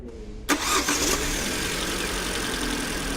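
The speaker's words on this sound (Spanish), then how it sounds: "Ahí acabamos de encender el motor" A car engine with a faulty smart-charging alternator (code P0625) cranks and catches after a short quiet lead-in, then settles into a steady, loud idle close by.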